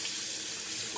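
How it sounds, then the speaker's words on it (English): A kitchen or bathroom tap runs steadily into a sink to rinse a straight razor, a continuous close hiss of flowing water with no voices. "you'll notice that that I'm doing a rinse"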